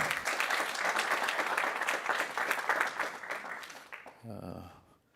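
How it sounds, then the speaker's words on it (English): A large audience applauds the mayor at a civic gathering, a dense, steady wash of many hands clapping for about four seconds before fading out as a voice begins. "Give the mayor another big round of applause, won't you?"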